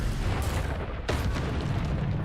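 A fiery Incendio spell in Hogwarts Legacy bursts with a sharp, booming blast about a second in, set against a busy, rumbling combat background.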